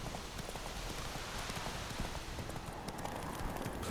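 Rapid clip-clop of a horse's hooves galloping in The Witcher 3: Wild Hunt, a fast continuous rhythm over a rustling, rain-like background.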